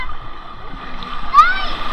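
Strong sea waves wash and splash at a Zambales beach in a continuous rushing churn, close and fairly loud, with a brief high whistle-like cry and people's voices mixed faintly into the surf.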